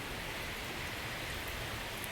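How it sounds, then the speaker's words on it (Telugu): Steady rain falls evenly and continuously, a soft, dense hiss with no talking over it. "ఇక వర్షం పడుతుంది"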